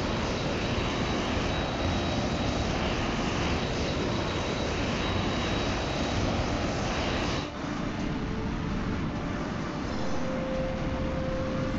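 Fighter jet engines roar continuously in a H.A.W.X. air mission, a loud broad rushing drone with a steady whine that shifts tone partway through, with no voices.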